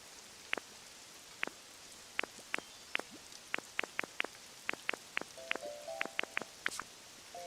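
Rain in the video game Pokopia falls as a light hiss, with a steady scatter of sharp, distinct drip taps over several seconds and a few soft game chimes near the end.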